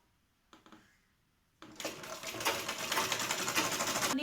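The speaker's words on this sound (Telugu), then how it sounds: "ఇలాగే స్ట్రైట్గా ఒక స్టిచ్ వేసుకుంటూ వెళ్ళిపోండి." A sewing machine runs stitches through lehenga fabric, starting after a couple of soft clicks, then whirring rapidly and steadily, loud and close, with no talking.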